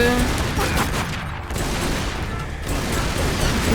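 Gunfire in Tomb Raider: Underworld: dense, continuous, loud volleys of shots and blasts that fill the whole stretch without speech.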